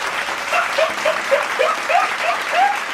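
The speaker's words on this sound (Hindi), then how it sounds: "तालियां" A crowd claps and cheers for the winning team of a cash-prize game during a Hawaii trip, steady applause with a few higher whoops over it.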